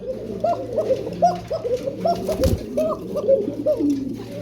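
Pigeons cooing repeatedly in a steady, overlapping rhythm, close and fairly loud, at a pigeon seller's pen where pairs are offered for sale; a brief louder thump or handling noise lands midway.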